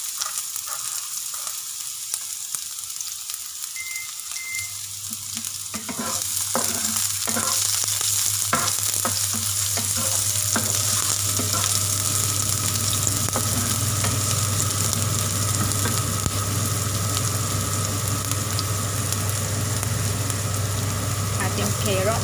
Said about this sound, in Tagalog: Saka natin igigisa pagsama-samahin lang yung mga gulay.